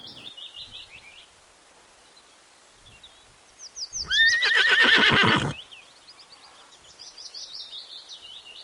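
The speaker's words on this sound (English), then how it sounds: "H. H for horse." A horse gives one loud, shaking whinny in the middle of a short alphabet rhyme segment, with faint birdsong chirping before and after it.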